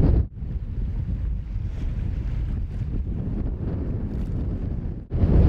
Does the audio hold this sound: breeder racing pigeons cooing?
no